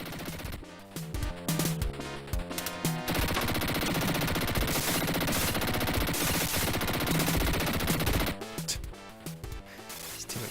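Dense rapid gunfire from the 1991 Dick Tracy Mega Drive game rattles on continuously with breaking-glass crashes, loud synthetic shots blending into game music for most of the stretch.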